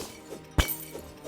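A single short crash of an object breaking in the video game Terraria, a sharp shattering hit over a quiet game background.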